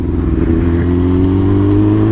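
Big tractor engine passing close by, a loud steady low rumble with strong droning harmonics that holds throughout, alone without talk.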